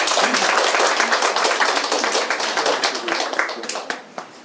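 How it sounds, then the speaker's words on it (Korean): A crowd at a residents' forum on public redevelopment of a local market claps loudly in a dense burst of applause that thins out and fades over a few seconds. "네, 큰 박수 부탁드리겠습니다."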